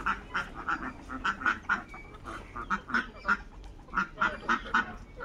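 Ducks on a native duck and chicken farm quacking in a loud, rhythmic series of close calls, repeated in bursts with short gaps and no talk.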